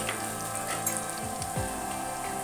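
Chicken pakora deep-frying in hot oil over a high flame, giving a steady, dense sizzle and crackle like light rain that runs unbroken throughout, close and even in level.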